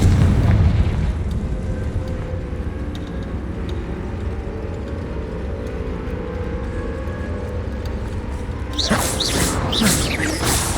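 Booming Confringo spell explosion in Hogwarts Legacy, a heavy low rumble opening loud and then settling into a long rolling roar, with a brighter crackling burst toward the end.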